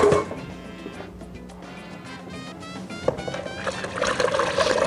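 Water pours steadily into a pot over ingredients for Mexican mole de olla, a close trickling and splashing that swells louder toward the end, with no talking.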